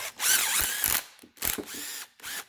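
A ratchet clicks in three quick bursts as it runs a sway bar bushing bolt up on a 2011 Subaru Outback, close and loud with short pauses between strokes.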